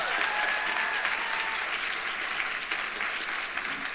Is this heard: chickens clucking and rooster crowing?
no